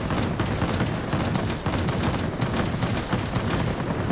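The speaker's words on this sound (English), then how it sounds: "Let's go for the guns that are shooting me" Continuous gunfire in the World of Warplanes video game, guns shooting at an aircraft while the player's plane roars along, a dense, steady barrage of rapid shots with no pauses.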